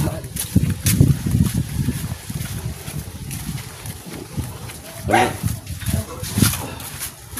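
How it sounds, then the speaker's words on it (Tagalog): A dog barks a few times at a distance, mixed with people talking nearby and outdoor background noise. "May aso daw dyan"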